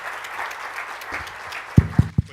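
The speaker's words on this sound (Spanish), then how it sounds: "Démosle un aplauso" An audience at the CADE 2014 conference applauds speaker Roberto Salas, a steady wash of clapping from a seated crowd that ends in a few heavy, close thumps.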